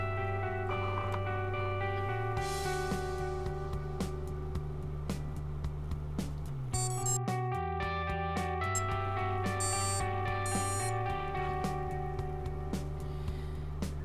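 Startup beeps from a Hobbypower 250mm quadcopter's brushless motor windings as the ESC and battery connect, a series of loud, steady electronic tones stepping in pitch, with a rapid chirping sequence in the middle.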